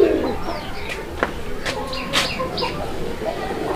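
Pigeons at a Bengali pigeon farm selling red-coloured Goli birds give a few soft coos and clucks, fairly close, with faint background chatter and other birds behind them.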